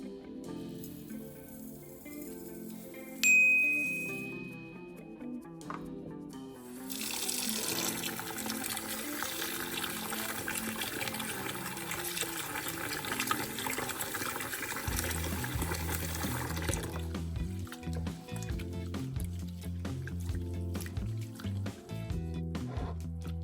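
Rice rinsed under a running kitchen tap for a meatball stew, a steady gush of water splashing into a bowl that grows fuller and louder partway through, with occasional clinks and no talking.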